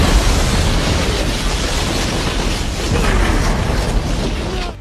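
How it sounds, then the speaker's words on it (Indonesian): A loud, dense blast of noise fills the air, a sustained rumbling explosion that roars without pause before tailing off slightly at the end. "tak lama bom itu pun meledak bersamanya"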